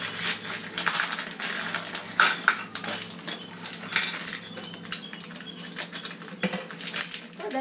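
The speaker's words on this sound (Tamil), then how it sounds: "எல்லாத்தையும் இந்த மாதிரி பிரித்து கொட்டிக்கலாம்." Parle-G biscuits are broken into pieces and dropped into a container while making ice cream, giving a steady crisp clatter of hard fragments tumbling and tapping against each other for the whole stretch, close and fairly loud, with no talking.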